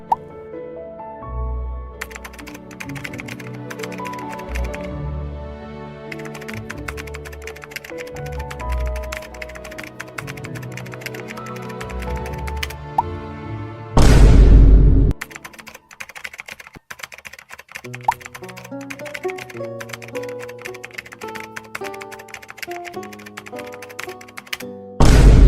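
Typing on a computer keyboard, a steady run of quick key taps heard over a background music track, with a loud whooshing burst midway and no talking.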